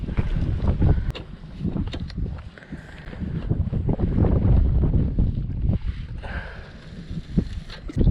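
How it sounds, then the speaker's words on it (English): Strong gusty wind at a lakeside buffets the microphone in heavy rumbling bursts, rising and easing throughout with no talk. "As y'all can see, it's extremely windy today."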